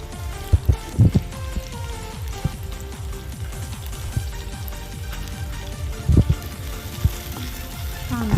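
Chopped onion fries in hot oil for a pizza masala with a loud, close, continuous crackling sizzle and scattered sharper pops.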